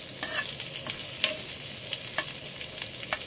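Onions sauté in a pan over a steady, close sizzle, with scattered spoon scrapes and stirring clicks breaking through the frying hiss.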